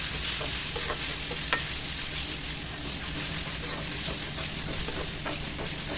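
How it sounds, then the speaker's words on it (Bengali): Ginger and garlic paste fries in a pan with a dense, steady sizzle up close, broken by a few short crackles and light stirring scrapes, with no talking. "1 চা চামচ আদা বাটা দিয়ে কিছুক্ষণ ভালো করে ভেজে নেব।"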